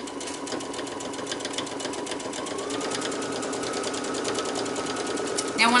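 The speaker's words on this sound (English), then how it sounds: "I'm using dark thread today in hopes that you can see very well" A sewing machine stitches a seam in dark thread, running with a fast steady mechanical rattle throughout, close and continuous.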